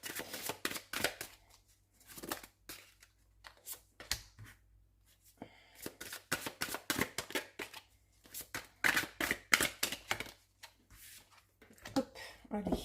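Cartomancy cards being shuffled for a tarot-style reading, repeated papery riffling and snapping bursts in uneven runs with short pauses, close and quiet, alone without talk.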